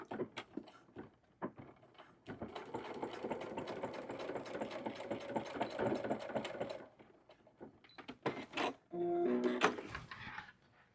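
Sewing machine stitching a row on a dish mat being made into a crossbody bag, running in a steady rapid whir for several seconds with short bursts before and after and a few handling clicks, close and alone.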